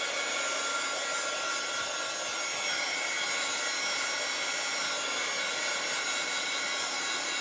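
Hair dryer blowing on whitewash painted onto a Dollar Tree metal baking pan sign, a steady, loud, close whoosh that runs unbroken for the whole stretch.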